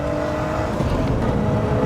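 A 1986 BMW 325i E30's M20 engine hums and revs steadily close by while driving, a throaty buzzing drone with a slight rise in pitch.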